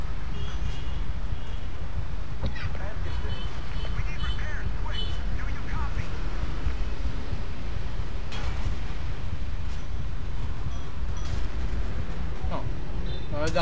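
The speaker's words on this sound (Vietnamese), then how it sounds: "Cái tiếng của AK nổ thì nó uy lực hơn là tiếng của súng của Mỹ" An AK rifle fires during a 16 vs 16 Battlefield 2 match, with scattered sharp shots and heavier blasts that rise briefly out of a dense, continuous rumble of battle noise.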